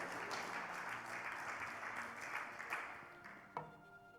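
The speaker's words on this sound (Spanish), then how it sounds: "Dele un fuerte aplauso al Señor," A church congregation applauds in a dense, steady wash of clapping that thins slightly toward the end, with no one speaking over it.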